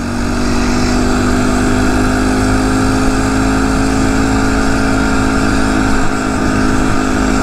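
A Phatmoto motorized bicycle engine buzzes steadily and loudly while riding, a continuous droning hum with a small engine's harmonic whine and no pauses.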